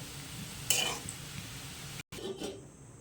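Potato slices fry in a pan with a soft, steady sizzle, broken by a sharp metallic clink of a utensil and a brief scrape near the end.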